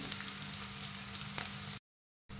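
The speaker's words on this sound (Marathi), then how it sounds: "अशा रीतीने आपल्याला खडे मसाले आणि कांदा जो आहे तो चांगला तुपामध्ये परतून घ्यायचा आहे" Onion and whole spices sauté in ghee for pulao with a soft, even sizzle and one faint stir. The sound cuts to silence briefly and then resumes.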